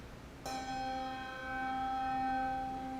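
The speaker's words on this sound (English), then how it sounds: "When you ring a bell" A tuned church bell from a set spanning about seven octaves is struck once and rings on with a long, steady, resonant hum that hangs in the air without fading.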